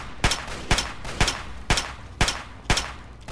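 Enemy gunfire in Fallout 3, six loud evenly spaced shots about half a second apart, each a sharp broadband crack with a short tail, heard alone without talk.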